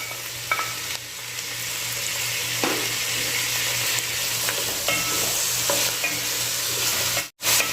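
Tomatoes and onion fry in a pan with a bright, steady sizzle, punctuated by occasional stirring scrapes and a brief cut near the end, no talking.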